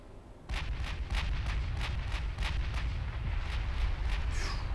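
Naval gunfire in the Ultimate Admiral Dreadnoughts game, a rapid, regular series of booming shots over a heavy, continuous low rumble, loud and sustained.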